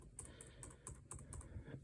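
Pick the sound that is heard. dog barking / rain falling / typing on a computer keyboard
typing on a computer keyboard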